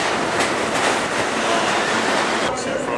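A New York City subway train rumbles in with a steady roar and rhythmic clatter of wheels on track, loud and close, continuing throughout.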